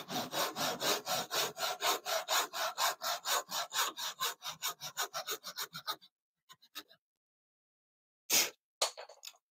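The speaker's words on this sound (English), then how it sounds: "Put the blade up to it and cut down on that line." A hand saw cuts wood for an angle bracket in a hand-tools-only workshop, with rhythmic back-and-forth strokes that slow and thin out before stopping, followed by a few isolated knocks and scrapes.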